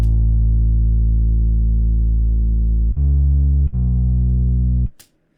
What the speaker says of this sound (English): show you the difference of the bass without the compression